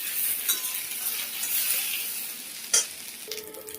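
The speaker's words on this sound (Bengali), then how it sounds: "এই যে তার মধ্যে সব সবজিগুলো দিয়ে একটু নেড়ে চেড়ে নিতে হবে এরকম করে" Vegetables stirred and fried in a pan with ginger paste give a soft steady sizzle, with a few sharp clinks of a utensil against the pan, one louder knock near the end.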